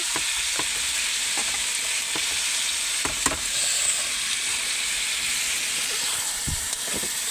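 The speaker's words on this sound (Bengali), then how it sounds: "দেখো এবার আমি নাড়িয়ে নাড়িয়ে জাস্ট একটু হালকা করে ভেজে নেবো" Chopped vegetables, including carrots, stir-fried in oil for patties, giving a steady loud sizzle and hiss throughout, with occasional soft clinks of the stirring utensil and no voices.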